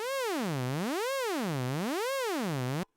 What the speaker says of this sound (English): We're sending a sine wave to the pitch of oscillator 1.